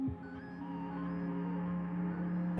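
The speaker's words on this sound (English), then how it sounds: "And then we bring the reverb back up." Soft, sustained ambient synth tones hang and blend together with a long, washy reverb tail, quiet and even throughout.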